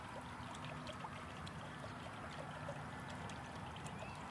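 Water from a spring rising out of the ground in a garden gives a soft, continuous trickle and gurgle, faint and steady, with a low background hum and no voices.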